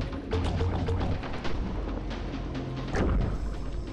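In Death in the Water 2, an underwater shooter, muffled booming shots thud amid continuous murky underwater rumble, with several dull impacts and one stronger blast near the end.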